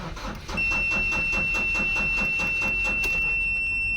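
A Ford Ranger pickup engine cranks over and over in a steady rhythmic churn for several seconds without catching, loud and close, with a faint high whine running alongside.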